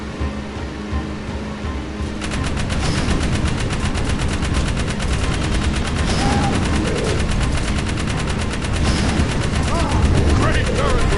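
Sustained rapid turret gunfire from a vehicle in the video game Jak 3, a loud continuous stream of automatic shots that starts about two seconds in and runs to the end over engine rumble.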